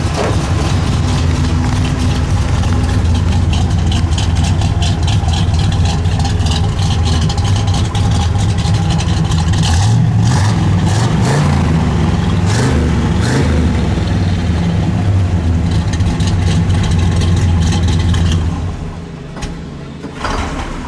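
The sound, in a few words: 1967 Pontiac GTO idling with dual exhaust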